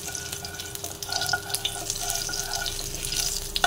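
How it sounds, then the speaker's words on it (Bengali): Green chilies crackling as they fry in hot oil in a pan, giving a continuous close sizzle broken by sharp little pops and spits, with no talking. "কারণ গরম তেলে যখন কাঁচা লঙ্কাটা দেওয়া হয় এটা খুব ফাটে"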